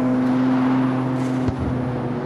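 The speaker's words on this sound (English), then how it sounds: "Ooh, that turbo sounds so nice." Sustained car engine in the CarX Street racing game, a steady droning hum with a brief bump midway, loud and continuous throughout.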